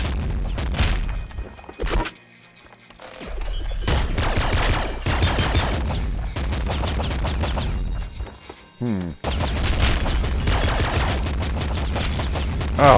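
A heavy machine gun rattles off long, loud bursts of rapid fire in the video game Nuclear Throne, with two brief gaps where it stops before it starts up again, with no voice over it.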